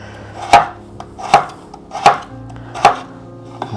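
A knife slices through a potato on a cutting board, four evenly spaced sharp chops landing about once a second, close and loud, with nobody talking.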